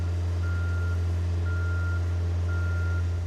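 A boom lift driving in reverse during a function check, its reversing alarm sounding three evenly spaced beeps over a loud, constant low engine drone.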